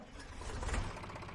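An old Fendt tractor engine in Farming Simulator 19 cranks and fires up, a steady low rumbling drone with a brief louder surge partway through, heard alone and up close.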